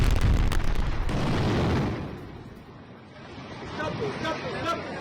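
A tank attack explosion in Khan Younis: a heavy, loud low boom and rumble in the first two seconds, then a fading, noisy aftermath with lingering roar.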